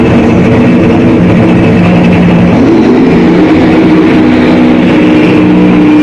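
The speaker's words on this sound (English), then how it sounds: "Man, that car's cackling over there, both of them." Car exhausts crackle and rumble, loud and continuous, with a dense, saturated engine roar throughout and no talking.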